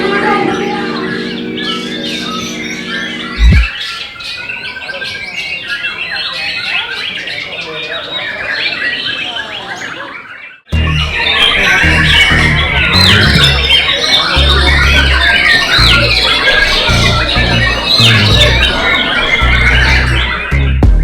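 Many birds squawking and chirping densely at an Indonesian bird singing contest, a loud continuous chorus with a brief break midway and people talking underneath.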